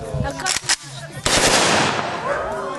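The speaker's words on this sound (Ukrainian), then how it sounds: "Та навіть трішки постріляли." Bursts of automatic rifle gunfire crack out close by at a camp, a rapid string of shots followed by a longer sustained burst ringing out.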